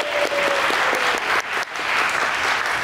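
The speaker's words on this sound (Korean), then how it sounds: "자, 박수 한번 부탁드리겠습니다." A crowd at a one-on-one basketball match applauds after the game, with sustained, loud clapping and a brief dip partway through before it swells again.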